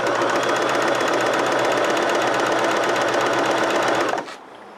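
Sewing machine running with no thread, a loud, close, rapid mechanical chatter held steady for about four seconds before abruptly stopping, leaving a faint hum.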